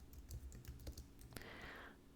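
Someone types a Linux command on a computer keyboard, a faint run of quick key clicks followed by one firmer keystroke, with a soft hiss after it.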